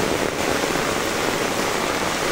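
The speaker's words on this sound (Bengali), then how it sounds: "পর্যাপ্ত পরিমাণ আজকে বৃষ্টি" Heavy rain pours steadily in rural Kaharol, Dinajpur, with water rushing through a full drain toward a pond; a dense, loud, continuous hiss fills the scene with no let-up and no voices.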